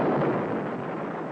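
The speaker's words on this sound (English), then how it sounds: "Fire two." A spaceship fires its second missile, a loud rumbling explosive roar that fades only slightly over its short span, heard alone without talking.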